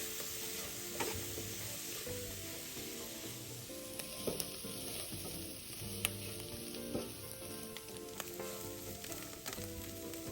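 Food stir-fried in a wok with a splash of sweet dark soy sauce, crackling in a steady, loud sizzle with scraping stirs throughout, and no voices.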